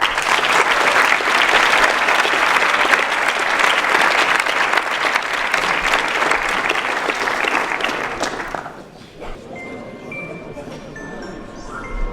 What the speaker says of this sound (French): applaudissons encore le président des connards